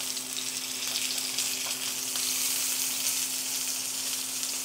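Venison steak searing in a pan gives off a loud, constant close-up sizzle with a faint steady hum beneath it and no talking.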